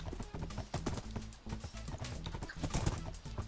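Rhythmic clip-clopping of horse hooves in Minecraft while riding through a forest, steady and close, with faint bird calls in the background.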